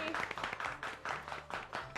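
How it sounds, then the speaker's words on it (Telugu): Studio audience applauding an episode winner on a Telugu women's television show, an uneven burst of clapping lasting about two seconds, fairly quiet, with speech over it. "కంగ్రాట్స్, క్లాప్స్ కొట్టండి."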